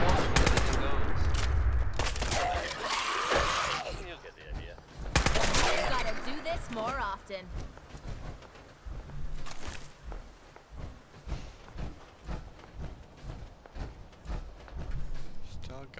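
Gunfire in Fallout 4, loud bursts of rapid shots at first, then sparse scattered pops and thuds, while someone talks over much of it.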